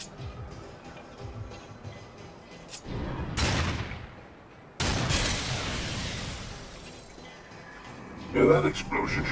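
Explosions in the video game Darksiders 2 burst out in two loud, broadband blasts a second or so apart, each decaying into rumble, with lighter in-game clatter before and after.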